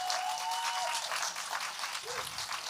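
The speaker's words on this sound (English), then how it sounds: "give them a round of applause" Applause from a live concert audience at Cairde Sligo Arts Festival, a dense wash of clapping that holds steady for a few seconds at a moderate distance, with a faint voice briefly underneath.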